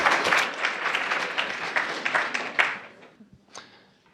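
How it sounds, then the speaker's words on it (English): Brisk applause from an audience at a cleantech university pitch competition greets a team, lively for a few seconds before tapering to a few last claps. "Big round of applause for Cuberg."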